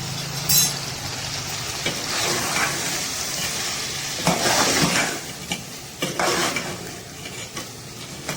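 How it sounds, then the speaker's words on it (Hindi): Cauliflower and mutton frying over high heat, a loud close sizzle broken by bursts of vigorous stirring and spatula scrapes against the pan. "जी तो मैं इसे भून रही हूँ अच्छे से"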